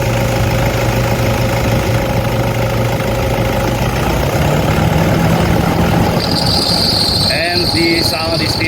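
A Toyota D4D diesel engine idles and then revs up, with a steady high-pitched whine from a faulty idler pulley riding over the motor noise throughout.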